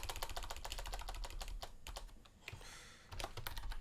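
Rapid clicking keystrokes on a computer keyboard, close and steady, briefly pausing before the typing resumes, with no one speaking.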